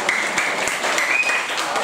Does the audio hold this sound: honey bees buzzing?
no